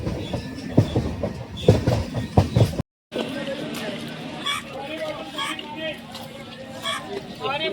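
MEMU train ride sounds: people chatter close by over the rumble and rhythmic clatter of the train's wheels. After a brief cut, a steadier rolling drone continues with faint clicks.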